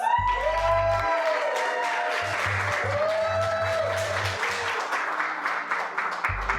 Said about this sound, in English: For Michelle, let's hear a round of applause.